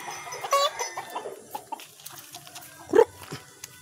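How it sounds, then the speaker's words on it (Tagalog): Pet chickens cluck and squawk in short, scattered calls close by, with one louder squawk near the end amid quiet yard noise. "Maya papaligo po tayo ng ating mga alagang manok."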